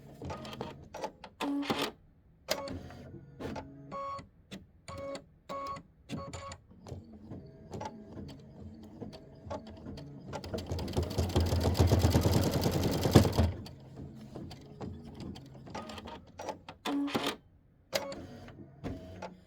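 An embroidery machine stitches out a snowman quilt block with a steady rhythmic chatter and clicking, close by, rising to a louder, denser whirring run near the middle before returning to intermittent stitching.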